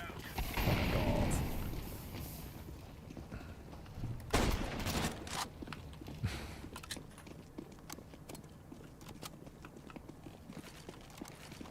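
Gunfire from a Scout-type gun in a video game, with scattered shots and a loud burst near the middle against busy game noise, trailing into fainter shots.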